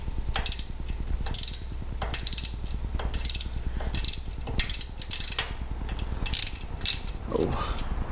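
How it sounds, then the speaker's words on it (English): A T45 Torx driver unscrews fasteners on a Harley-Davidson Iron 883 motorcycle, giving a steady run of rapid ratchet clicks with a few brighter metallic ticks, close and fairly quiet throughout. "Unscrew these."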